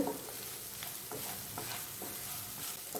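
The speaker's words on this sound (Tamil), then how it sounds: "ஒரு கொத்து கருவேப்பிலை, கொஞ்சம் கொத்தமல்லி நல்லா கலந்து விடுங்க" Squid pepper fry is stirred in a hot pan with a sprig of curry leaves and some coriander, a steady sizzle broken by rhythmic scraping strokes of the spoon about twice a second.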